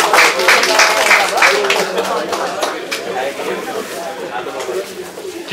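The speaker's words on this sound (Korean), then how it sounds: "서로 좌우에 계신 분들에게 한 해 복 많이 받으시라고 서로 박수로 자리 마무리하겠습니다" An audience at a Korean book launch gathering claps together to close the event, a dense burst of applause that thins out while murmured chatter continues.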